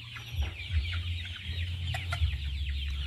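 Chickens clucking inside a 700-square-metre coop that holds about 300 birds, with repeated close clucks and squawks over a steady low hum of background noise and no talking.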